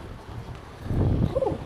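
Steady wind in Vecindario on Gran Canaria, blowing at around force 4 to 5, buffets the microphone with a low, gusty rumble that swells louder midway through the short stretch.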